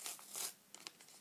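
A paper surprise envelope is torn open, giving soft crinkling and tearing bursts followed by a few light rustles and crackles, faint and close with no talking.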